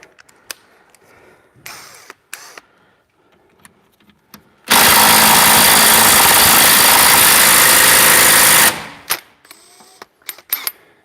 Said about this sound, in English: let's see if I can do that with the impact gun